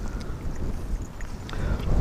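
Wind buffets a microphone beside a near-frozen river during trout fishing, a rough low rumble that swells and gusts over two seconds.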